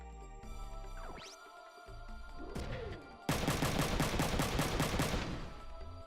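Rapid mech weapon gunfire in the video game Front Mission 3, a dense burst of evenly spaced shots that starts abruptly partway through and runs loud to the end, after earlier whooshing synthetic game effects and music.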